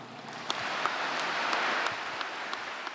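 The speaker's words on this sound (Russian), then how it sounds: "Эти аплодисменты звучат для вас" Sustained audience applause at a patriotic forum, a dense wash of many hands clapping steadily for about three seconds with no talk over it.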